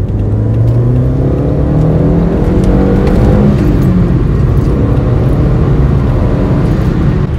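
A tuned Audi TT MK1 with the 1.8-litre 20V engine revs loudly and close by, its rising and falling engine tone holding a steady drone for several seconds with no talking.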